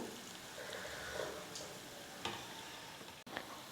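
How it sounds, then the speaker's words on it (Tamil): Kajada snacks deep-frying in oil in a kadai, a soft, steady sizzle with a few faint ladle clicks, fairly quiet and alone. "கடாயில் சேர்த்துட்டு நல்லா ஃப்ரை பண்ணி எடுத்துக்கலாம்."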